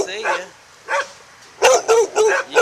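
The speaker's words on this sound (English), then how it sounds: "What are you barking at?" A chained dog barks in a quick series of four sharp barks near the end, preceded by a couple of softer yips, with a person talking at the start.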